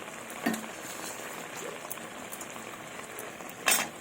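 A broth of spinach and small fish curry bubbles softly in a pan, a low, steady simmer heard close up. Two brief louder clinks stand out against the quiet bubbling.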